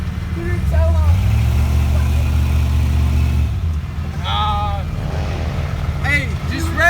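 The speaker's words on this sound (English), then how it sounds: "just rev the hell out of it" A Cummins diesel truck engine revs with a deep, sustained low drone that rises and then cuts off, with voices and shouting mixed in around it.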